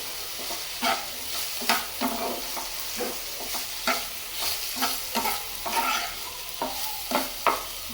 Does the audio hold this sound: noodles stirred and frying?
yes